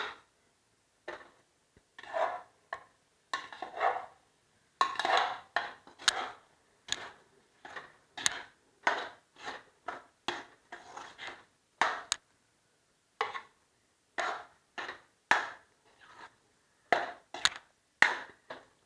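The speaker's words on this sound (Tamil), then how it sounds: "இப்போ எடுத்து வச்சுருக்க சாதத்தை போட்டு நான் கிளறிடுறேன்" Cooked rice being stirred into spinach in a pan for Tamil-style spinach rice, heard as a steady series of soft scraping and tapping strokes against the pan, close and fairly quiet, with no talking.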